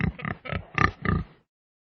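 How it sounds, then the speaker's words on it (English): A pig oinks in a quick series of five grunting snorts, close and fairly loud, with no other sound around them. "This is a pig."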